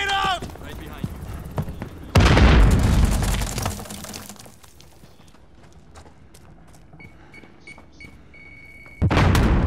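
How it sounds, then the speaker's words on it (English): A grenade explodes in a Call of Duty: Modern Warfare Team Deathmatch match: a loud, sudden blast rumbles and decays over a couple of seconds, quieter game noises follow, and another heavy burst hits near the end. "Grenade out!"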